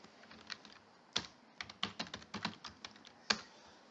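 Computer keyboard typing as code is written, a quick irregular run of close, crisp key clacks with brief pauses, and no talking.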